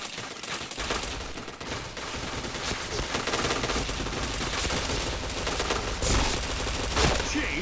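Gunfire from the PointBlank video game comes in dense, rapid bursts that run almost without a break, loud and close, with a few sharper shots near the end and no speech over it.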